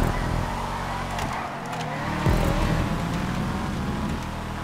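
Calico car engine in GTA 5 Online revving and accelerating hard, a steady loud drone that dips briefly then surges again, close and continuous.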